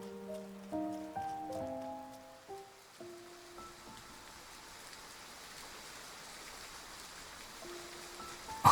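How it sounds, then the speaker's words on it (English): Steady rain hisses through a quiet night scene in the video game Love and Deepspace, soft and even beneath a few gentle sustained music tones early on, with no voices. "I find him sitting in the rain."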